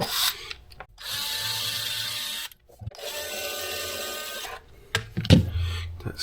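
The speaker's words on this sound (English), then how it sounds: "with our 2mm driver, we're going to come right in here" A 2mm hex driver works a set screw loose on the hub of an Ottsix Wizard C2 RC car: close, buzzing mechanical whirring in three stretches, broken by brief pauses.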